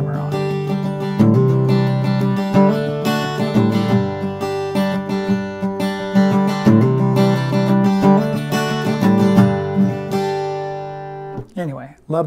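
Acoustic guitar playing a song with the signature hammer-on, bright strummed chords ringing continuously in a close, clear take, ending with a brief scrape as the hand comes off the strings.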